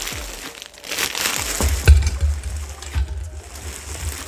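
Plastic packaging crinkles and crunches as it is torn open, with irregular crackling bursts and a low handling rumble throughout; no talking.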